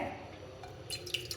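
A little water is added to a hot pan while cooking butter chicken, giving faint, sparse drips and light splashes over a quiet kitchen background.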